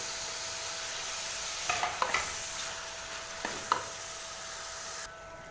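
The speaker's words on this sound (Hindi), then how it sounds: "इसको अच्छी तरह आप फ्राई कर लेंगे" Tomato, ginger-garlic paste and green chili paste fry in a pan for chicken pulao, with a steady close sizzle and a few sharp clinks as the mixture is stirred.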